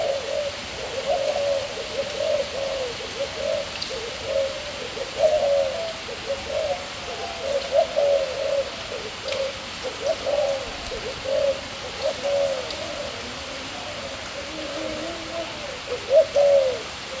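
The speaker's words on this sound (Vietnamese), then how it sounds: "Chim rất thuần, rất hăng." Birds coo over and over in a steady, rhythmic pattern against a constant background hiss, fairly close and moderately loud, with no talking.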